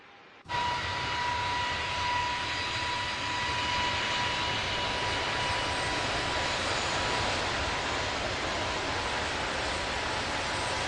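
Airliner engines in Flight Simulator 2024 on PS5 give a steady, broad jet roar with a faint tonal whine as the plane climbs past 10,000 feet, continuous and even throughout after a brief quiet start.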